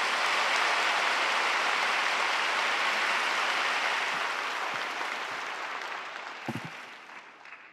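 A church congregation at a Pentecost prayer meeting welcomes a lawyer speaker with applause, a dense hiss of many hands that slowly fades toward the end, with a few louder knocks near the close.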